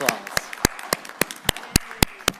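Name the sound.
council meeting audience applause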